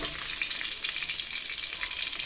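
A large fish frying in a pan sizzles steadily and fairly softly, a bright even crackle with no talking over it.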